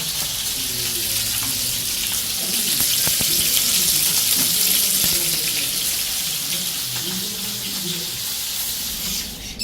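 Chicken frying in a pan outdoors in a backyard, a loud continuous sizzle with crackling oil that swells in the middle, with faint background sounds beneath.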